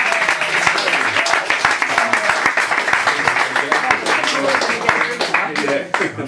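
Audience applauding after a poetry reading at a drinks-fuelled open-mic style event, dense continuous clapping from a crowd that holds steady for several seconds, with voices mixed in beneath the applause.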